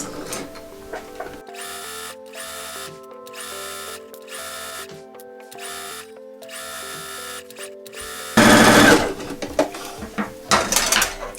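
A sewing machine stitches fabric for a scrunchie headband in several short, steady bursts separated by pauses, followed by louder handling noise toward the end.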